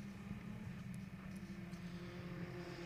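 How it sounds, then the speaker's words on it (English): A Saleen Cup race car at Portland accelerates hard out of the Shelton chicane, a steady engine drone with a low throttled roar running continuously and fairly close throughout. "You can hear his throttle application really early out of the Shelton chicane"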